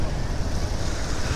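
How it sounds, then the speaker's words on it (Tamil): A motorcycle rides through shallow seawater on the beach at Thalassery, a loud, dense rushing roar of water and wind buffeting the microphone close up, with no talking. "இப்போ நம்ம பீச் தண்ணியிலேயே வண்டி ஓட்டுறோம்."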